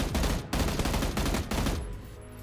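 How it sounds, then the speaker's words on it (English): An M16A4 rifle in PUBG fires in three quick bursts of rapid shots about a second apart, loud and close, with the last burst fading into a quiet tail. "for the M16A4, the shots come in bursts"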